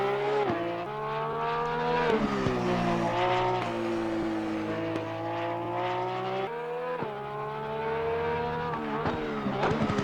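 Porsche GT3 race car in Assetto Corsa Competizione at the Nürburgring, its engine screaming loud and continuous as it climbs through the revs, drops on downshifts under braking and pulls again, with no talk.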